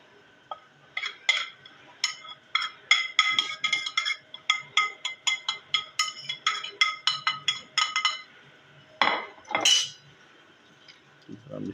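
Spoons scraping and clinking against a bowl as spices are mixed into a Peshawari chapli kabab mixture with roasted gram flour, a quick run of close metallic clinks and scrapes, then a few louder scrapes.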